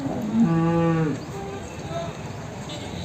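A single loud, low moo from a water buffalo, rising then falling over about a second, followed by quieter background noise, at the Erragadda buffalo market.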